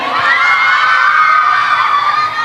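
Students at a santri talk show cheer and shout together, a loud, close wall of youthful voices with rising whoops, sustained without pause.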